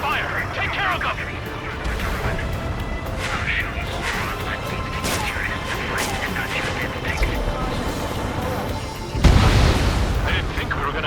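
Gunfire and explosions in the Ace Combat 7 jet combat game, a dense, continuous rumble of shots and blasts with a heavy boom near the end, mixed with radio voices talking.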